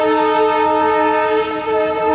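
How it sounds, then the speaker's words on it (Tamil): Loud, sustained train horn at Shalimar railway station in Kolkata, a steady multi-tone blare held for the whole stretch, close and dominant with no voices. "பார்த்தா ட்ரெயினும் வந்து விட மாட்டுறாங்க, போட்டு ஹார்னு பிப்பி பிப்பி பிப்பின்னு அடிச்சுட்டே இருக்காங்க."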